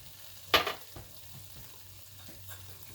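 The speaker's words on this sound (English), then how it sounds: "Let's give it another stir." Shepherd's pie filling of onion, garlic, salt, pepper and tomato is stirred in a pan, opening with one loud scrape of the spoon and then a steady low sizzle with faint light stirring taps.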